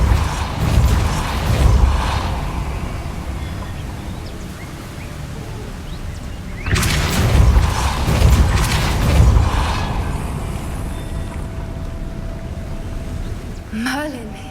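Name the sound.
Depulso spell moving a mechanism, Hogwarts Legacy video game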